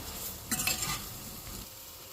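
Salted plantain slices are stirred in a frying pan, a short scraping stir rising over a soft steady sizzle, then settling back into the gentle frying hiss.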